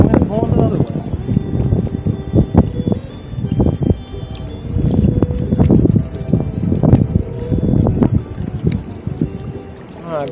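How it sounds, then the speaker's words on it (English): Wind gusts roar across the microphone on the Tennessee River during a kayak trip, loud and steady, with water sloshing and people talking over it. "And now the wind's going the other way."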